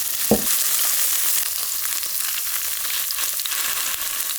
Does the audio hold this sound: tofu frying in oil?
yes